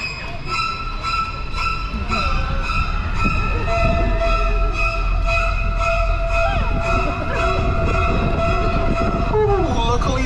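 Quiet electric studio tour tram rolling along at Universal Studios Hollywood, a steady low rumble with sustained tonal hums and faint background voices throughout.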